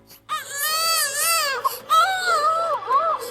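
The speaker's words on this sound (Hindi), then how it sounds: "इसके अंदर से तो बच्चे के रोने की आवाज आ रही है।" A cartoon baby cries inside a hut, giving loud, close, high wailing cries in two long sobbing bursts separated by a brief catch of breath.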